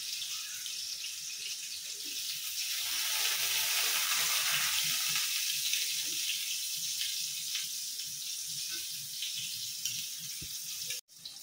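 Chopsuey with tofu frying in a pan, a dense continuous sizzle that swells and holds steady, close and loud, with faint clinks near the end.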